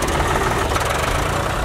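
A tractor engine runs loud and close on a farm with pigs and chickens, a steady rough idling rumble with a knocking pulse throughout, with no talk over it.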